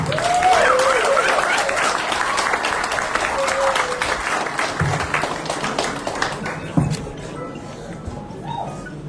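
Audience applause at a police leadership handover ceremony, a broad wash of clapping that gradually fades, with a dog barking and whimpering near the start and voices murmuring underneath.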